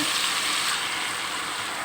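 Blended chili paste, made with water, sizzles and fries steadily in a hot pan while cooking eggplant balado: a continuous close, even crackling hiss with no talk.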